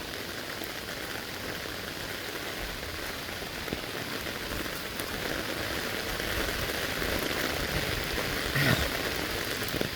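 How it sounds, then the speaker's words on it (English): Heavy rain falling outdoors on a street, a dense, continuous patter and hiss that holds steady and swells slightly toward the end, with no voices. "I wonder if you guys can hear the rain,"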